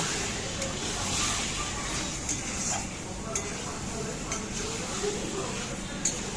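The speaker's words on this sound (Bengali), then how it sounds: "ভালো করে নাড়াচাড়া করে মশলাটার সাথে চিকেনটা মিশিয়ে নেব" Chicken stirred with masala in a hot pan, with continuous sizzling and scraping broken by light metallic clinks of the spoon at a close, steady level.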